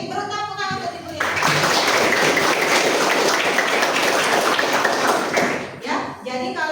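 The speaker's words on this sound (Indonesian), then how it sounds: "Beri tepuk tangan untuk Ibu ya." Students in a classroom break into a burst of clapping lasting about four seconds, dense and fairly close, with speech before and after it.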